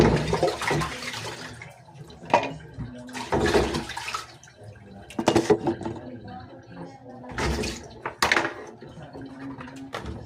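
Water fetched by hand is poured and splashed in bursts while rinsing, several separate sloshing pours over a quiet background with faint voices nearby.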